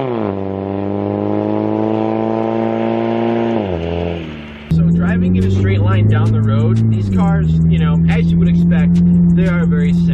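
A loud PT Cruiser engine drones steadily, dipping in pitch as it shifts, then continues roaring while a person talks over it.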